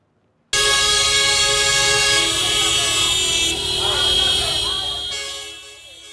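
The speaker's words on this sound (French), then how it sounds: "Les klaxons des véhicules en file annoncent un événement" Horns from a line of vehicles in a military convoy arriving at a camp in the evening, a loud sustained chorus of overlapping toots and blasts that holds for several seconds, then fades slightly.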